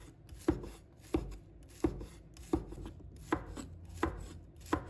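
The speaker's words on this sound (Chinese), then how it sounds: "我们切的时候尽量给它切均匀一些，炒苦瓜的时候就比较容易熟。" A knife slices bitter melon on a cutting board in eight evenly spaced, crisp thuds, each cut sharp and close with quiet gaps between strokes.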